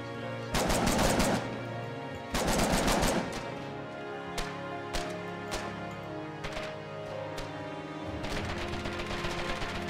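Gunfire rings out in trench warfare in the video game Foxhole: two loud bursts of rapid automatic fire are followed by scattered single shots and a final burst, all close and sharp.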